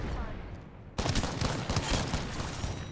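Gunfire in Apex Legends, a sudden loud burst of rapid shots breaking in after a quieter stretch and continuing as dense, rattling fire, with a voice faintly present.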